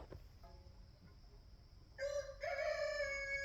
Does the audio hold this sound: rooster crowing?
yes